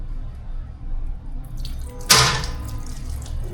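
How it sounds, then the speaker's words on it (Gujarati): Aquarium gravel from a fish bowl is washed under running water. A low background trickle gives way to a sudden loud gush and splash partway through, which then settles back to quieter flowing water. "હવે એક વખત ગ્રેવલ્સની અંદર જઈને ધોઈ નાખીએ."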